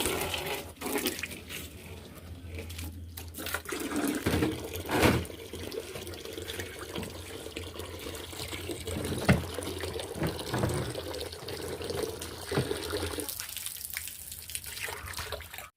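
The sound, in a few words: water running while washing out a fish tank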